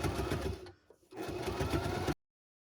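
A Baby Lock Zest sewing machine topstitching a t-shirt dress, a close, loud rapid whirring hum of the needle that stops briefly for about a quarter second, resumes, then cuts off into silence.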